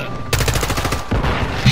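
Rapid automatic gunfire in the game Call of Duty Modern Warfare 2, loud and close, a fast burst of shots that breaks briefly and then resumes.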